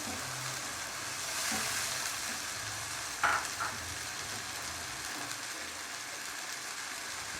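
Spiced chicken frying in a pan, with water from a stone grinding slab poured in partway; a steady close sizzle swells briefly, then a sharp hiss and splash as the liquid hits, settling back to even frying.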